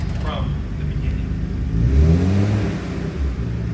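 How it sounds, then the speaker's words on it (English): Nissan Stagea Autech 260RS with an RB26DETT engine, HKS front-mount intercooler and HKS sequential blow-off valve, revving up in a swelling burst then settling, heard close with people talking over it. "Want to hear what it sounds like with the HKS Sequential?"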